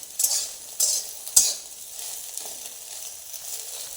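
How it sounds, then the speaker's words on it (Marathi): Soybeans fry in a pan while a spoon stirs them, giving a steady high sizzle broken by a few sharp scrapes and clinks against the metal, with no voices. "याला पण असं सारखं हलवायचं."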